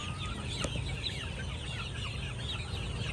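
Hens at a game farm cluck in a steady, close flurry of short calls over a low background rumble, with no talk.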